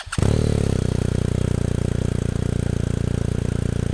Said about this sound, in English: As for the exhaust note, we've got the titanium Akropovich accessory on this press bike.